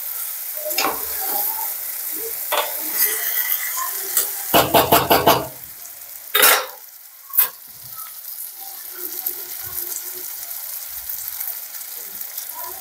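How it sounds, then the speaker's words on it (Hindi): Eggplant and onions fry in a pan for baingan do pyaza, giving a steady close sizzle with several sharp bursts of louder spitting and stirring noises midway. "देखो इसको फ्राई करेंगे और एक सा मिक्स करेंगे।"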